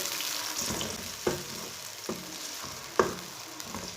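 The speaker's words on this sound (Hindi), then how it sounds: "1 बारीक कटा हुआ टमाटर डाल लेंगे। 4 सब्ज़ मिर्चें, इसे 1-2 मिनट तक पका लेंगे टमाटर और मिर्ची डाल के।" Finely chopped tomato and green chilies frying in a curry pan, a soft steady sizzle punctuated by a few clinking stirs of a spoon against the pan, quiet and close.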